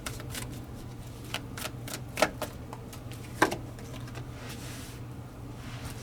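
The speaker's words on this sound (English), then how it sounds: "I'm going to do all this in one shuffle." A deck of playing cards is shuffled in one go during a tarot-style reading, producing a soft papery riffle with a couple of sharper snaps, close and fairly quiet over a low steady hum.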